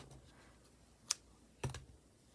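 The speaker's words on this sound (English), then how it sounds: "Now I'm going to cut my yarn." Two sharp snips of scissors cutting crochet yarn, one brief click near the middle and a heavier cut shortly after, close by in an otherwise quiet room.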